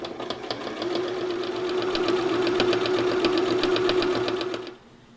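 A sewing machine stitching a teddy bear runs in one continuous burst of rapid, even mechanical clatter over a motor hum, close and fairly loud, then stops abruptly near the end; no one speaks.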